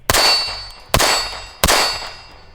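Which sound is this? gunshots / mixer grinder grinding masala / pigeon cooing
gunshots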